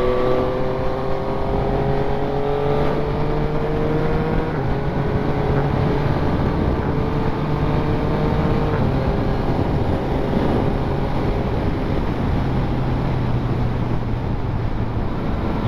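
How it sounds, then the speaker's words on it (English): Yamaha XSR 900 motorcycle cruising at about 70 mph on a dual carriageway, with a steady engine drone and heavy wind rush buffeting the microphone throughout, loud and continuous. "we'll just give it a quick run down the dual carriageway and see what it's like at 70 miles an hour with the wind blowing on you"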